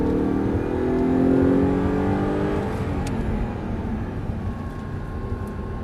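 An Audi R8 V8 accelerating at full throttle, its engine note climbing in pitch before settling into a broad, steady roar, with no talking.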